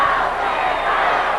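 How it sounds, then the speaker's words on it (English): Wrestling crowd at the Sam Houston Coliseum roars in support of Gary, a dense, loud wall of cheering and shouting that holds steady with no break. "They're cheering Gary."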